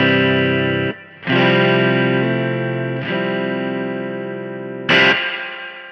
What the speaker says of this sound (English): Our first mode is a 2-spring reverb,